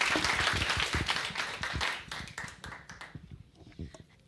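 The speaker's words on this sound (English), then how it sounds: "Big round of applause" An audience claps at a storytelling gathering, a dense burst of hand claps that starts loud and gradually thins out and fades over a few seconds.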